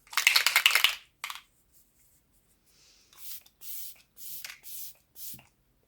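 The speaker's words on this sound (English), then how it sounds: "It gives such a beautifully fine mist." e.l.f. Stay All Night Microfine Setting Mist sprayed in several short, soft hissing bursts, close to the mic, after a brief rattle of handling at the start.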